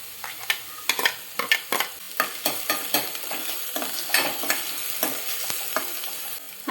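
A spoon stirs green chili into poha in a hot pan, giving sharp, irregular scraping knocks against the metal over a steady sizzle, close and fairly loud with no talk.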